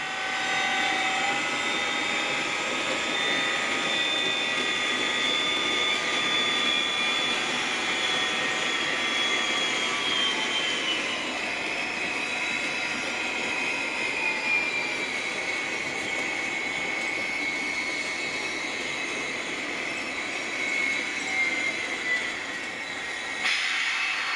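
A Bachmann Class 57 model diesel locomotive with digital sound rumbles steadily for the whole stretch, its engine drone and whine holding constant at moderate volume with no talking.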